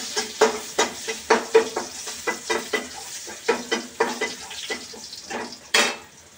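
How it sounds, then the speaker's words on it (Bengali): Crushed garlic frying in a pan while being stirred, a sizzle under repeated scraping strokes of a utensil against the pan, close and fairly loud, no talking. "এখানে রসুনটাকে একটু থেতো করে নিয়েছি, এটাকে দিয়ে দিচ্ছি। একটু নাড়াচাড়া করে দিই।"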